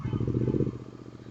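A GT 650 motorcycle engine runs close by with a quick, even, low chugging pulse that fades slightly toward the end.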